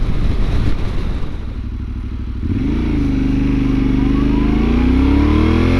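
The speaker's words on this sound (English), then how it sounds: "that exhaust sounds so good" A Yamaha Tenere 700 motorcycle with a Yoshimura exhaust runs close by, settling from a rough idle into a steady, rising drone as the rider throttles up.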